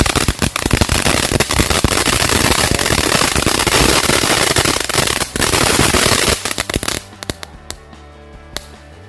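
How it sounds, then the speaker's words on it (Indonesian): A large 8-inch fountain firecracker burns with loud, continuous crackling and popping bursts. The noise is dense at first, then breaks into scattered sharp pops as it dies down near the end. "kita nyalain mercon air mancur yang harga 35 ribuan"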